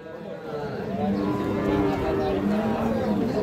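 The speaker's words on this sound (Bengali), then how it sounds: "এই পাশে কিন্তু ষাঁড় বাছুর দেখতেছি" Bull calves at a cattle market let out a loud, close, drawn-out moo that runs the full length, with a busy crowd in the background.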